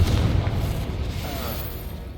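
Confringo fire spell exploding in the Hogwarts Legacy video game, a single deep, rumbling boom that hits loud at once and fades out over a couple of seconds.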